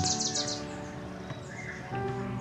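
Birds chirp and sing outdoors, bright high calls repeating over a steady background hum, moderately close.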